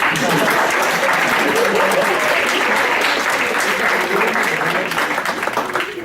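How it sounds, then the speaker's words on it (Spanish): Loud, dense applause from a conference audience on photography in social anthropology, continuous clapping throughout that thins slightly near the end, with some voices mixed in. "También un aplauso, por favor."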